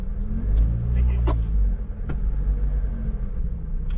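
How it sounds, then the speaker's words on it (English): Lotus sports cars pull out of a rain-soaked car park, a steady low engine rumble close by with faint tyre swish on wet ground and a few brief knocks over the droning idle. "we've got all the Lotuses lined up here in the car park, and we're just exiting the car park"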